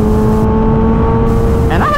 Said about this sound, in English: What do y'all think about this exhaust note for a slip-on?